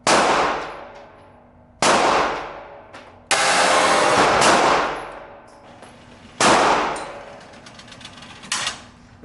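S&W Shield Plus Carry Comp pistol fired at an outdoor range, five loud, sharp shots spaced a second or two apart, each ringing out and decaying, with no talk.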